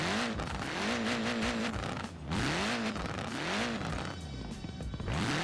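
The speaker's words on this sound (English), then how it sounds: "I'm going to do a couple revs, listen to the crackles and the sound of this engine" A Honda Civic Type R engine in Forza Horizon 4 revs repeatedly, climbing and falling in sharp sweeping bursts with a brief dip midway, loud and close with no talking.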